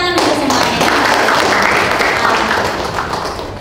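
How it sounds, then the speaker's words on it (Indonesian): Audience applause at a university language event in a hall: dense, loud clapping from many people that holds steady and fades slightly toward the end. "Oke, tepuk tangan untuk semuanya."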